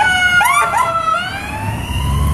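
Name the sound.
ambulance siren passing by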